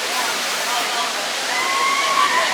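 A theme park waterfall pours as a steady, broad wash of rushing water, heard from a little distance and continuous throughout, with faint voices and crowd sounds mixed underneath.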